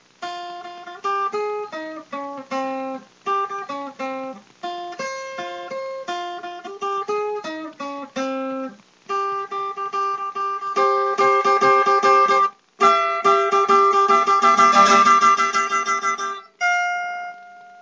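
A melodic guitar solo of quick plucked notes from a song, phrases separated by short gaps, building to a denser, brighter passage before ending on a held note.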